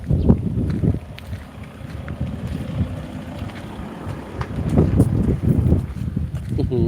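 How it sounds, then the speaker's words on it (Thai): Strong wind buffets the microphone out on open water during a fishing trip for tilapia, a rough low rushing roar with gusts and water noise, while people talk over it. "ลมก็แรง"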